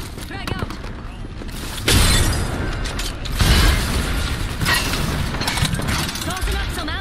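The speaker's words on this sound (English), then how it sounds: "Toss in a frag. Frag out." A frag grenade thrown and exploding in a PC first-person shooter, with mechanical clatter followed by two loud, booming bursts in quick succession among dense in-game noise.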